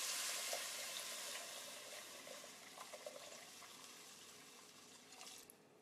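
Chicken broth pours steadily into a pot for risotto with a bright splashing hiss, gradually easing off over a few seconds.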